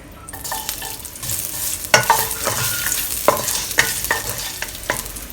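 Thinly sliced young ginger stir-fried in hot oil, with a steady sizzle broken by sharp scrapes and clanks of a spatula against the pan, close and loud with no voices.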